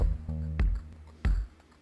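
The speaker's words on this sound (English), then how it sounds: "really weird percussion for my next song, and it kind of sounds like this." Unusual experimental percussion made for a song: a droning tonal bed struck by two loud, sharp hits about half a second apart. No voices.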